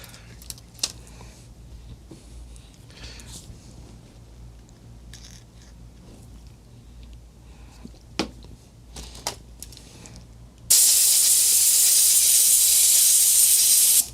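An air compressor nozzle blows air while cleaning a 1935 IBM Model 01 typewriter: quiet handling clicks and short bursts give way to a loud, sustained hiss of rushing air near the end, close by.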